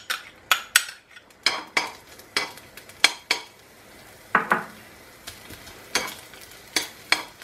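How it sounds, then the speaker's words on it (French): Green beans dropped into hot olive oil in a pan, heard as a series of sharp, close clatters and scrapes of utensil against pan in an irregular rhythm with a light sizzle underneath, no talking. "Je pense que mon huile est assez chaude, je vais mettre mes haricots verts."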